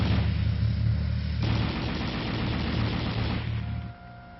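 An M60 tank's coaxially mounted 7.62 mm M73 machine gun fires a steady, dense stream of rapid shots that stays loud and continuous, then cuts off and leaves a fading rumble near the end.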